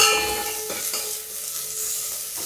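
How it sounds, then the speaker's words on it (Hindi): Onion frying gently in a little oil in a pot for dal palak, giving a continuous close hiss and sizzle, fairly loud and even, with no voices. "अब आप डाल देते हैं इसमें प्याज"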